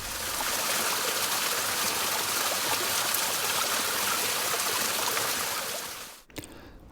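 A tiny waterfall on a stream along a long Mt Mitchell mountain hike, rushing water pouring steadily and loudly up close, then cutting off suddenly near the end.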